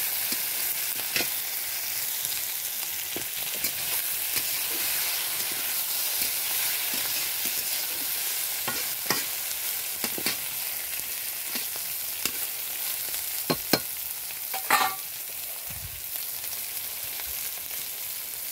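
Pointed gourd (potol) frying in oil in a pan, a constant hissing sizzle with occasional crackles and light utensil taps, close and steady for a long stretch, nobody speaking.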